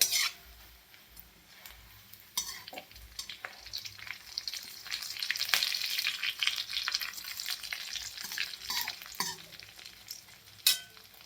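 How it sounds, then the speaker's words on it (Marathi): Cashews fry in a pan for sheer khurma, a festive Eid dessert, giving a soft steady sizzle broken by scraping stirs of a spoon against the metal, close and fairly quiet, with no talking. "तर आता आपले काजू फ्राय झालेले आहेत बघा."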